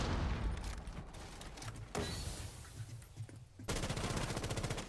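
Rainbow Six video game gunfire sounds as fast bursts of automatic shots, with a long rapid stream at the end. The shots are fairly faint and have no talk over them.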